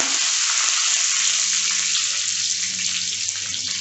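A steady, loud sizzle of cinnamon sticks, dried red chillies and curry leaves dropped into hot oil crackles continuously close by.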